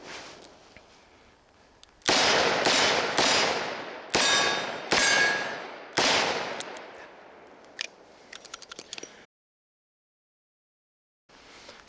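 Rapid sharp gunshots from a Smith & Wesson Performance Center Model 19 Carry Comp revolver, loud and close, fired in quick strings with ringing decay, a few fainter shots near the end, then silence.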